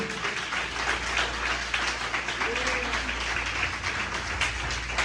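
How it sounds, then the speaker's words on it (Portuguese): A church congregation applauding during a sermon, with steady sustained clapping from a crowd at moderate volume and a faint voice under it. "Você pode aplaudir e glorificar o nome do Senhor?"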